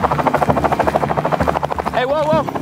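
A helicopter flies nearby in an action film, its rotor beating in a fast, steady thump that stays loud throughout, while voices talk over it and a whooping warble rises near the end.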